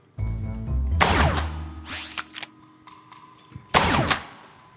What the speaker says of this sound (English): I'm gonna just keep shooting.